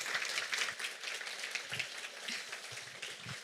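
An audience applauds after a panel of animation school graduates on international distribution of short films: dense, steady clapping that fills the room throughout, with no voices over it.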